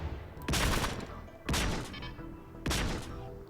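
Three loud, separate bursts of gunfire crack out about a second apart during a RimWorld fight, each with a short, rough decay.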